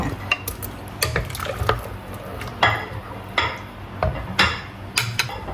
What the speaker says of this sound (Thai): มาตามด้วยหัวไชเท้ากันค่ะใส่ลงไปเลยค่ะ